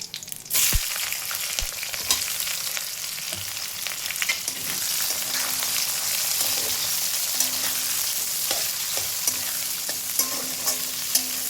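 Onions frying in hot oil with bay leaf, dried chilli and garam masala for a mutton curry, a loud, steady sizzle with occasional stirring scrapes and clinks running throughout, close and without talk.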